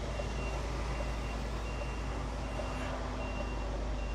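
Reversing beeps from a delivery lorry on a high street repeat at an even steady pace under a constant loud engine rumble, with no voices.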